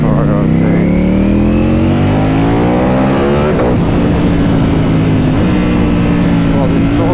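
Close, continuous roar from a 2018 Ducati Panigale V4S motorcycle while riding, engine pitch climbing through several gear changes with a brief dip midway, loud and dense, a voice talking faintly beneath it.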